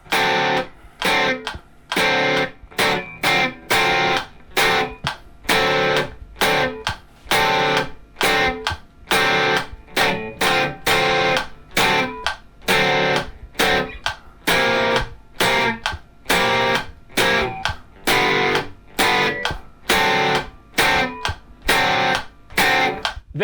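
Electric guitar chopping out the verse riff of a song in short, tight, evenly spaced bursts with a steady driving rhythm, loud and alone with no talking.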